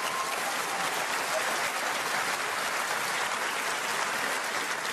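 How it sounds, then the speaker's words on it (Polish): Steady, dense applause from a quiz show audience fills the whole stretch at an even level, with no talk over it. "Brawa, tak."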